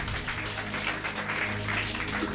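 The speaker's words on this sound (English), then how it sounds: "Are they clapping?" A church congregation claps together in a dense, steady wash of applause that carries at a fairly strong level for the whole stretch, with no voices standing out above it.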